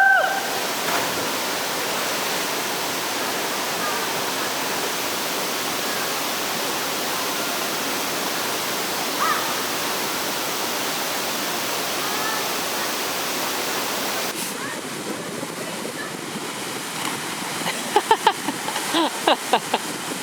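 A waterfall rushes in a broad, steady roar for most of the stretch, then drops to a quieter wash near the end, with a few sharp knocks close by in the last seconds.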